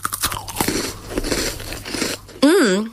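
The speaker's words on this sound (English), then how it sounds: "Is the right amount of crunch and OMG so much chocolate." Someone bites into a chocolate snack with a few close, sharp crunches followed by chewing, and a voice breaks in with a rising exclamation at the end.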